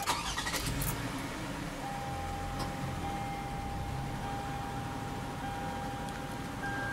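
A 2009 Toyota Sienna's engine cranks and catches in a short burst, then settles into a quiet, steady idle hum with a faint tonal whine, heard close with no talking.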